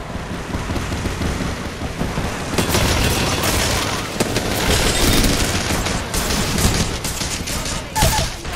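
Gunfire in the video game Apex Legends: dense, loud bursts of rapid shots and heavy impacts roll on continuously, with a brief faint voice in the mix.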